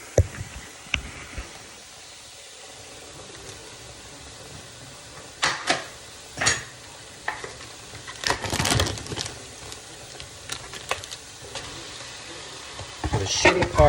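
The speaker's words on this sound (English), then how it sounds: "Now, I am gonna go ahead and chunk in the ground turkey." Ground turkey dropped into a pot of gently boiling liquid, giving soft sizzling and bubbling with scattered sharp clatters and stirring bursts, moderately close, building louder toward the end.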